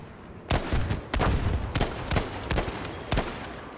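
Machine gun fire in the video game Battlefield 5 comes as irregular sharp bursts and single shots over a constant battle din, loud and near, with several separated volleys.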